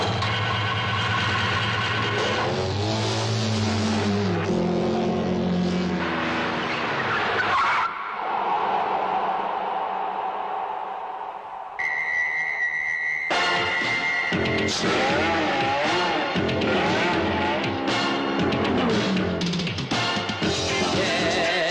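A loud car commercial soundtrack, with engine roar and tire-squeal-like swells layered under dense music, a brief quieter break with a tone, then the full mix returns.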